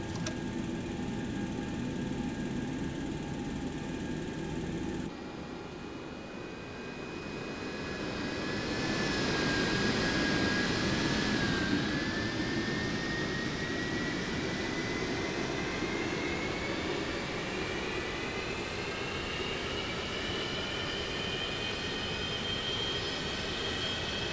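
A jet engine spools up during startup in the X-Plane 11 flight simulator, a steady airliner turbine whine and roar that shifts tone after a few seconds, then builds and rises in pitch, continuous and moderately loud with no talking.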